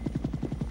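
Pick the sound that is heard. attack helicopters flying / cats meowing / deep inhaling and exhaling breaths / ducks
attack helicopters flying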